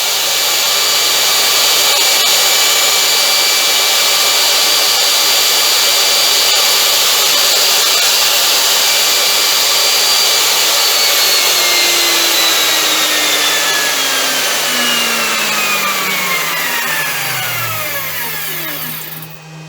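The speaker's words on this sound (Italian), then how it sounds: "abbiamo visto che motore a carboncini da 50 Hz a 65 non cambia nulla praticamente" A brushed electric motor runs steadily on an AT2 single-phase 220 V inverter, giving a loud continuous whine with tones that keep shifting, then winds down with a falling pitch near the end.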